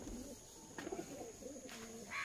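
A Madras pigeon at a pigeon-flying competition gives soft, low cooing calls that repeat in short phrases across the clip, heard fairly close against faint outdoor background noise with no talk.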